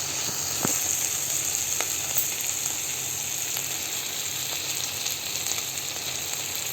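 Chicken pieces go into hot spiced oil for a red chicken kosha, giving a steady close hissing sizzle with a few sharp crackles and a faint clink, continuous and without talk.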